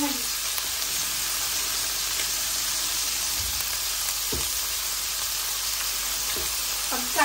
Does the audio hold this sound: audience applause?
no